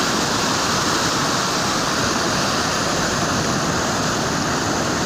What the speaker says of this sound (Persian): سیل در ناحیه فیض‌آباد دهه 26